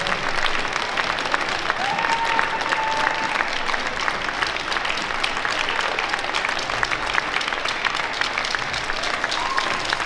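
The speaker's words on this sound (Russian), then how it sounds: "Аплодисменты болельщикам." An audience claps steadily at a ballroom dance festival in Minsk, a loud, dense and even wash of applause filling the hall with no talking over it.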